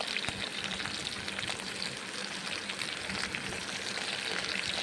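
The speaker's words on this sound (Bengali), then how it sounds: "সর্ষের তেল দিচ্ছি বেগুনগুলো ফ্রাই করে নিচ্ছি" Eggplant pieces frying in mustard oil make a dense, continuous loud sizzle and crackle, steady throughout with no pauses.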